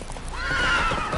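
A horse in The Witcher 3 gives a loud, rising whinny over galloping hoofbeats, close and clear, lasting about a second.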